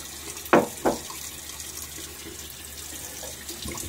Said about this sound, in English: One more splash of water on my face.